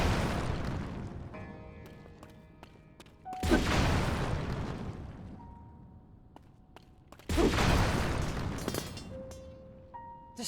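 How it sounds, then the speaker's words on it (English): Swords explode in the video game Zelda: Tears of the Kingdom: three loud, deep booms with long rumbling decays, spaced a few seconds apart, over a faint musical score. "Just the explosion of swords everywhere is so funny."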